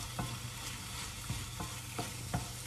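Already-cooked shrimp are stirred into onions and mushrooms in a hot pan, a soft steady sizzle under four or five sharp scrapes and knocks of the spoon against the pan.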